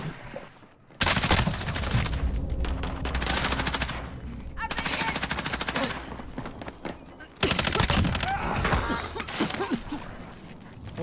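Sustained rapid gunfire in a video game match, dense automatic bursts nearly filling the stretch with a brief pause midway, loud and close, under excited shouting.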